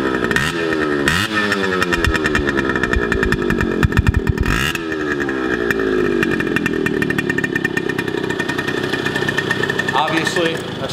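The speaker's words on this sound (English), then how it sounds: "Listen to the exhaust note on it." A 1975 Suzuki TS75 motorcycle, a low-mileage street-ridden bike, runs near and loud with a raspy buzzing exhaust note, rising and falling through several revs with brief throttle blips.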